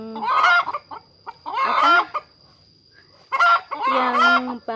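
Bangkok game chickens clucking and crowing in loud, close bursts with pauses between them, a voice speaking briefly under the calls.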